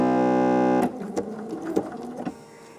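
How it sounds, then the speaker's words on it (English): Sewing machine running in short bursts, a steady hum at the start followed by a few quick stitching passes back and forth while couching beads onto fabric, close and fairly loud. "So I'm going to do a couple back stitches here."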